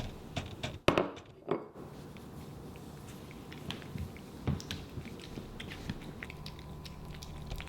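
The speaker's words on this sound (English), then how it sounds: "Why do you chew so loud?" A cat chews loudly at close range, with a few sharp crunchy bites near the start and then scattered softer chewing clicks over a quiet room.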